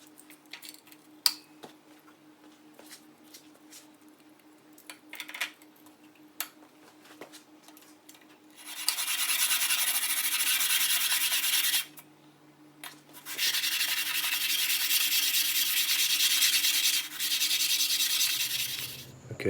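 Sandpaper is rubbed over a clamped sharpening stone to dress it, with scattered light taps and scrapes followed by two long, steady stretches of close, raspy sanding strokes.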